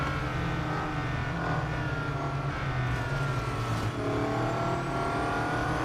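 Race car engine in the Real Racing 3 video game, a steady loud roar of a car at speed on track, with shifting engine pitch and brief tire noise, continuous throughout and no talking.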